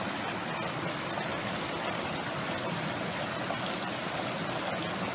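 Creek water at a Mammy Creek crossing in the Eastern Arthurs flows in a steady, full rush, with no voices over it.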